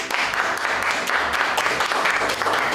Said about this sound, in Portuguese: Uma salva de palmas para Luciana Daulísio.